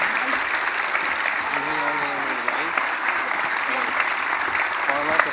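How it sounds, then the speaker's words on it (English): A large crowd at the E3 2017 live event applauds as a game studio team walks on stage, producing dense, steady clapping that fills the whole stretch, with a voice faintly heard over it. "Let's give them a round of applause."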